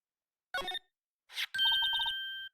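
A telephone rings in the Ace Attorney video game, a short electronic tone burst and then a longer steady ring of rapid repeated pulses, clear and fairly close with no talk over it.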